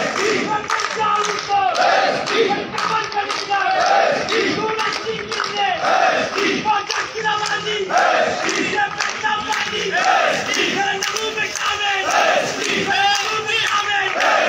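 A large crowd at a political rally in Karachi chants slogans in loud, continuous rhythmic bursts, with massed voices swelling and falling steadily throughout.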